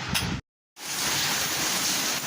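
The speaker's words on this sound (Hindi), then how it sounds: "अल्लाह कितनी प्यारी हवा चल रही है लाहौर में" Wind on a rainy day in Lahore, a steady broadband rushing like gusting air against the microphone, cut by a brief total dropout before resuming at full strength.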